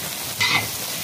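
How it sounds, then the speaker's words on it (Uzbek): Eggplant and onion fry in a pan, a soft steady sizzle broken by one brief scrape of stirring, close and fairly loud. "Yaxshilab aralashtirib qavuramiz."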